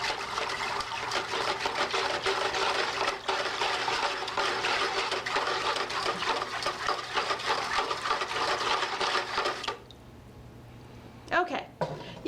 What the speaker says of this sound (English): I'm going to take my whisk. I'm going to make sure that the glaze is evenly mixed up.